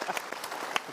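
A short burst of audience applause at a motivational talk, a few scattered claps over a crowd background, fairly faint.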